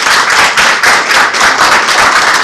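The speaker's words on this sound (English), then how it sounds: "There should be no applause during a public hearing." Audience members applauding at a city plan commission public hearing, a loud, close, continuous patter of clapping hands with no talk.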